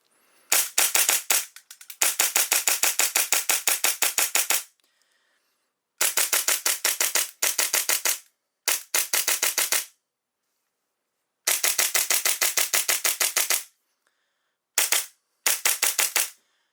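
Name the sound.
Hi-Capa airsoft pistol on HPA shooting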